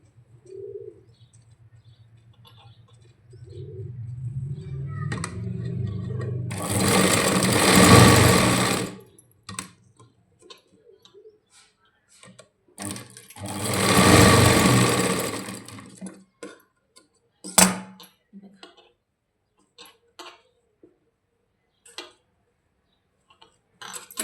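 A sewing machine runs two clear bursts stitching tucks on the front panel of a princess-cut boatneck blouse, with quiet handling and faint ticks in between.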